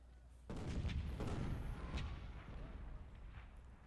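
20-pound Parrott cannon fire in the Civil War strategy game Ultimate General, set at Malvern Hill: a deep booming report that rolls into a long rumbling decay, with faint distant crackle behind it and no talk.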